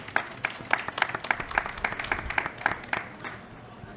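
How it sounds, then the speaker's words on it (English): An audience applauds distinguished panelists at a legal forum, with steady, dense clapping that fades toward the end. Some voices can be heard in the room. "Let's have a round of applause for all of our distinguished panelists."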